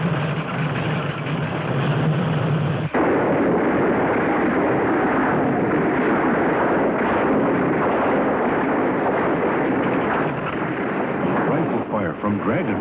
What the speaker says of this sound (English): Rifle fire from dragon.